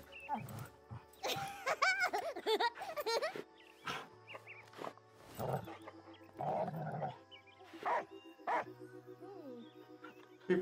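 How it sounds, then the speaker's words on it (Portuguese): Dog in the video game Last Day of June, a few sharp, close barks and growls scattered between pauses, with someone speaking over and between them and low game music humming beneath. "Esse cachorro deve estar com sarna."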